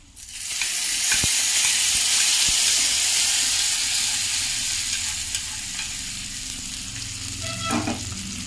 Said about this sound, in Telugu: ఇదిగో తాలింపు వేసేసుకున్నాం